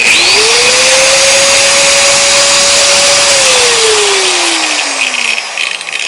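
Angle grinder running on a 1500W CNSWIPower pure sine inverter, a steady loud motor whine that climbs as it spins up, holds level, then winds down slowly near the end; no talking.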